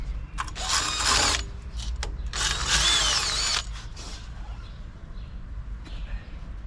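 Power tool cutting off screw ends on an Audi A6 C5, with two loud, harsh, high grinding bursts of a second or so each. Brief clicks come in between and a low steady hum continues afterward.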